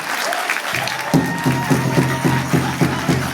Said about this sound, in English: Give a round of applause for our singers.